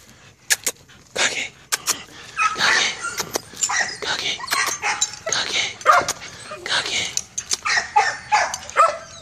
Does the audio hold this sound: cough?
no